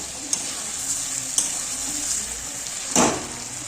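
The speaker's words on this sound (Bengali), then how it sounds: "তেলটা একদম শুকিয়ে যাবে, তখনই ভাববো যে আমাদের মাংসর কষাটা রেডি হয়ে গেছে" Chicken pieces fry in oil in a wok while the meat is cooked down for a chicken and potato curry, a steady sizzle broken by a few sharp stirring scrapes, close and fairly loud, with no talk.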